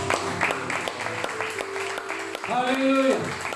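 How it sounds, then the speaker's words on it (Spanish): A church congregation claps at a worship service, a burst of scattered applause with a voice speaking over it and a sung or sustained tone near the end. "Dale un fuerte aplauso."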